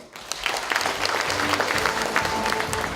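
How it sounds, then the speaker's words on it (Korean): Audience applause at a table tennis association president's inauguration ceremony in Sangju, a steady burst of many hands clapping close by for about three seconds, with a faint voice or two beneath. "좋은 말씀해주신 이윤식 의원님께 다시 한번 큰 박수를 부탁드립니다"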